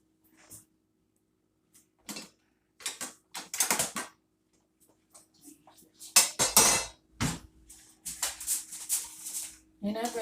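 Pans clatter and a metal tray scrapes as baked pork neck bones come out of the oven to be flipped, with scattered clinks and knocks in short bursts, some louder near the end, between stretches of quiet and brief talk.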